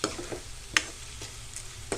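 Ivy gourd curry ingredients stirred in a hot pan, a soft continuous sizzle broken by a few sharp scraping clacks of the spoon against the metal, spaced irregularly.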